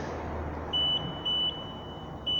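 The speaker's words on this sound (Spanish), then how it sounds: "Nos está dando una alarma con un doble parpadeo." A JLG E300 electric cherry picker sounds its alarm as a steady high-pitched electronic tone, with louder beeps pulsing at intervals over a low mechanical background.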